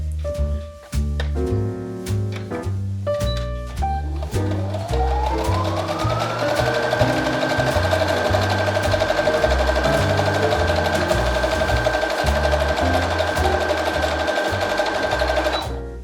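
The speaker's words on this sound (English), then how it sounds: "I started sewing straight lines vertically at random using the longest stitch length on my machine" Sewing machine running long straight lines at its longest stitch length on scrap fabric, several short starts and stops, then one long steady rhythmic whir as the motor speeds up, close and loud, with no talking.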